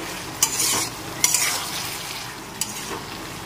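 Poppy seed paste ground with green chili being stirred in a pan, a steady frying sizzle with a few scraping spoon strokes, fairly close with no talk.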